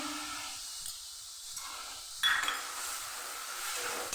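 Spices with turmeric, cumin and coriander powder frying in a pan for a potato and pointed gourd curry cooked in ghee, a soft steady sizzle with a louder burst and a light utensil clink near the middle.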